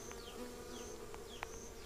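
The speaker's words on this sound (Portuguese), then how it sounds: "e muita abelha, como vocês podem identificar aí." Boca de renda stingless bees buzz continuously around an opened hive, a dense close swarm hum with individual bees darting past the microphone.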